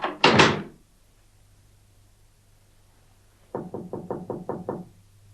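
Someone knocks on a door in a stage play, a short double knock first, then after a long pause a faster run of about seven sharp raps, loud and close.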